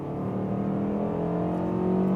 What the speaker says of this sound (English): you hear this naturally aspirated engine, really going in the RPMs